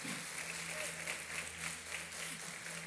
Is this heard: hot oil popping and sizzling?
no